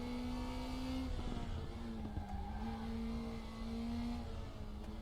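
An NSU TTS engine revs hard in fourth gear around 160, its strained steady drone rising and falling slightly with gear grinding, loud and continuous throughout.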